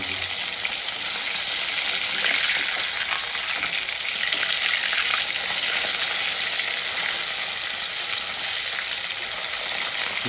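Kali baus fish pieces frying in oil, producing a steady, dense sizzle and crackle that stays loud and even from start to finish.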